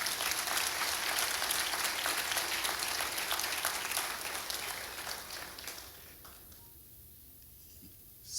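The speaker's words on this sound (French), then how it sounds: "Je vous demande d'applaudir le décanat de la faculté de médecine." A graduation ceremony crowd for the medical faculty in Haiti claps steadily and loudly, then the applause fades out over the last few seconds to near silence.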